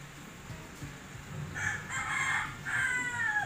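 A neighbour's rooster crows from nearby, a drawn-out cock-a-doodle-doo in the second half, faint and heard alone over a quiet room.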